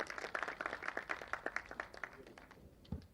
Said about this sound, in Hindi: एक बार शमीम साहब के लिए जोरदार तालियां बज।